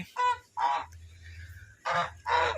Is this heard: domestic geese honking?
yes